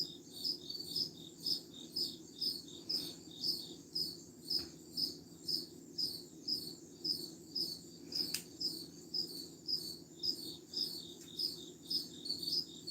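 Steady, rhythmic cricket chirping repeating in regular pulses, close and clear, over a quiet low hum.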